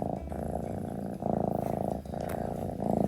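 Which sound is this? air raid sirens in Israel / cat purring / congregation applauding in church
cat purring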